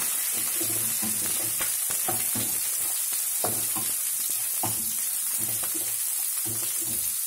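Green chillies and onion pieces frying in hot oil for idli upma: a steady close sizzle with scattered clinks and scrapes of stirring, no voices.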